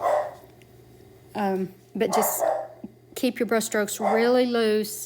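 A dog barks and yips a few times indoors, short sharp outbursts mixed in with someone talking during an acrylic painting lesson.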